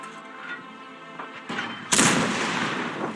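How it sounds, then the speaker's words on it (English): Tank cannon fire in the World of Tanks game Frontline mode: a sharp, loud broadband blast near the two-second mark follows a duller thump, then sustained rumbling decay. The backdrop carries steady engine and battle noise. "If they start shooting at me,"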